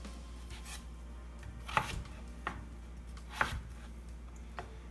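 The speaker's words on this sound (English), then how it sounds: "I take my potato, cut it in half." A knife cutting through potatoes on a cutting board while making Southern potato salad, giving a few distinct, sharp chopping thumps spaced apart over a faint background hum, with no talking.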